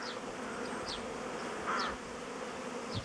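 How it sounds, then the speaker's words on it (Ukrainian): Honeybees fly around beehives at an apiary after rain, a soft continuous buzzing with individual bees zipping past close by, quiet and without talk. "Ось такий льот. У всіх вуликах."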